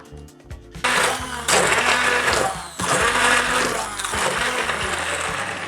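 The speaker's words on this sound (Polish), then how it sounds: "I do tych tutaj składników jeszcze dodajemy olej i będziemy to wszystko miksować" An electric hand mixer whirring through waffle batter with added oil, a steady loud buzzing drone starting abruptly after a short pause and holding with slight changes in pitch and load.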